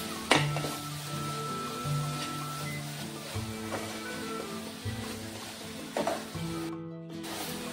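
Ghee and cardamom powder stirred in a pan for modak filling, soft sizzling with a few sharp scrapes and clanks of the spoon against the metal, then a brief quiet pause near the end.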